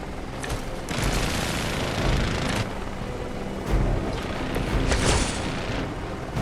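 Rapid gunfire and booming explosions from the video game Marvel's Midnight Suns fill the scene in dense, continuous bursts, loud and close, with a few heavier blasts standing out.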